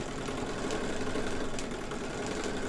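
A sewing machine runs steadily while stitching a quilt block, giving a continuous mid-level mechanical whir with a fine rapid needle rhythm, close and even throughout with no talking.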